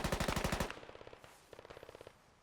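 RPD machine gun fired in the military shooter game Squad: two rapid bursts of evenly spaced shots, the first loud and close, then a quieter burst after a short pause.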